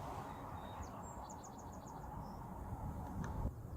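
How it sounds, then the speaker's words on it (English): Faint, quick chirping birdsong, a short trill of repeated notes, rises over a steady wash of breezy outdoor noise, recorded with a surround sound microphone on a Lumix G100 camera. "I hope I can hear the birds in this video because they sure do sound nice today"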